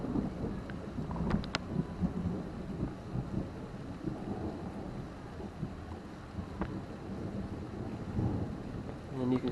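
Thunder rumbles on and off during a severe thunderstorm, a low, sustained, rolling roar mixed with wind buffeting the microphone, with a few sharper crackles near the start and a voice faintly audible at times.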